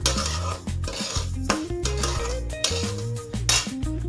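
A spoon scrapes and clinks against a pan while coarse wheat roasts on medium gas, with bursts of stirring broken by short pauses and a tune playing underneath.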